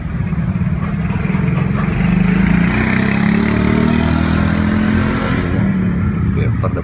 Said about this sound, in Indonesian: suaranya V8-nya terdengar jelas